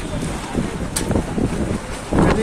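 Strong Kalbaishakhi storm wind gusting across a cattle market, a steady loud roar buffeting the microphone with rising surges, and a brief voice faintly heard beneath it.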